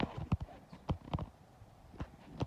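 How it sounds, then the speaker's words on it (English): Horse hooves clip-clop in an uneven walking rhythm, several distinct hoof strikes close by, with a little background noise between steps. "you pet that horse"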